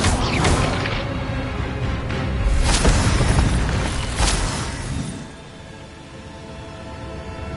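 Incendio fire spell cast in Hogwarts Legacy, a loud booming blast with crackling bursts that swell and then fade into a quieter, rumbling tail.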